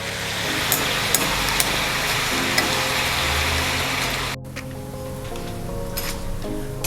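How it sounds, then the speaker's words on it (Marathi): Pressed rice-flour sev fries in oil over a medium gas flame, giving a dense, steady sizzle with scattered pops and clinks. The hiss dips briefly midway, then carries on unbroken, with no talking. "या पद्धतीने आपण शेव पाडून घ्यायचे आहेत आणि मीडियम गॅसवरती फ्राय करायचं आहे।"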